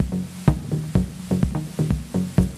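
Algorithmic techno loop playing a 7 against 8 polyrhythm, with punchy bass drum hits layered against a wrapping, buzzy rhythmic synth pattern, steady and loud without voices.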